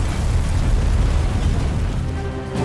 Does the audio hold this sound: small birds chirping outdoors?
no